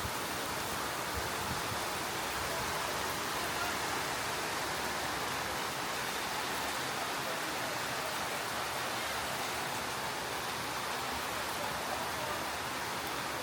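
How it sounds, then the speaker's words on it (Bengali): Rain falls in a steady, even hiss at a moderate distance, constant throughout with no distinct drops or voices. "বলতে না বলতেই আবার বৃষ্টি।"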